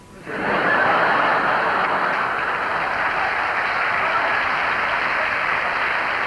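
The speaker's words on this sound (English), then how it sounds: "Would the people in the cheaper seats clap your hands?" A large theatre audience at a royal command comedy show bursts into sustained, dense applause that rises quickly and holds loud and steady.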